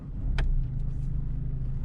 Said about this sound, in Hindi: अब गाड़ी को स्टार्ट करते हैं।